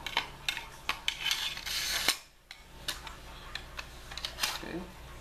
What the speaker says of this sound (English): Now insert the magazine tube inside the new